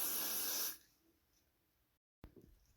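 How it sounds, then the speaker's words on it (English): Got To Be spray hisses onto a kinky curly closure wig in one steady, close burst lasting under a second, followed by near silence and a faint handling sound. "I'm going to use my Got To Be spray and spray it over the area that I have."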